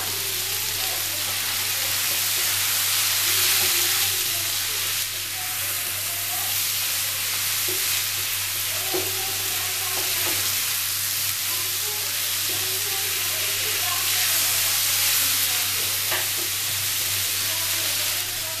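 Potatoes and beans with turmeric and Kashmiri chilli powder cook in a pan on low heat, giving a soft steady sizzle and hiss with a constant low hum beneath and occasional light stirring.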